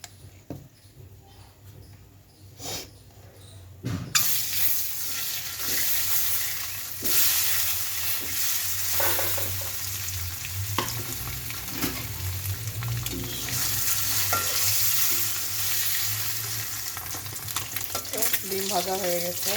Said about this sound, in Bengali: ডিমটা আগে ভেজে নিব।